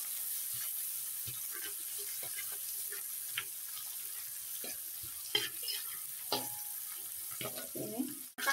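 Soaked dried shrimp and chili sizzle softly in a pan with garlic, a steady low frying hiss broken by occasional stirring scrapes and clinks near the end.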